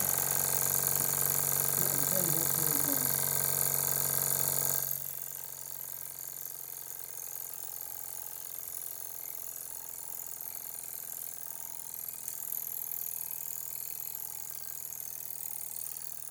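A Jensen live steam engine is opened up toward full power, starting with a loud, hissing mechanical rush for about five seconds and then settling into a steady, lower running whir and clatter.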